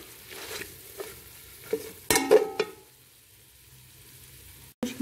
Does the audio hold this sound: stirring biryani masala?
yes